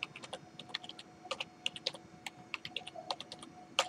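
Keys clatter on a computer keyboard in quick, irregular bursts of taps, fairly quiet, with a soft hum in the background.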